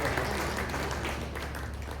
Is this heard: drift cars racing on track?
no